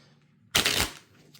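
A single quick riffle of playing cards being shuffled, a short crisp burst in an otherwise quiet room.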